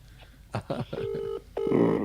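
A phone dials out on a call, with a few short tones followed by a steady ringing tone that grows louder toward the end.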